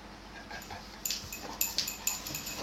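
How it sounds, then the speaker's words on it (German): A dog whimpers softly in short, high-pitched whines, repeated several times, faint and close against a quiet room. "das ist mein Hund."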